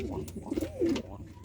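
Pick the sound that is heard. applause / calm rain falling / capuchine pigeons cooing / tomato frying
capuchine pigeons cooing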